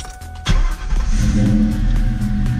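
A short crank and a 1994–2004 Ford Mustang GT engine with long-tube headers firing up at once, settling into a steady, close idle after a starter replacement.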